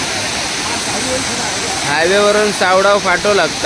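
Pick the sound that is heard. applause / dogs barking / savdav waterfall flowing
savdav waterfall flowing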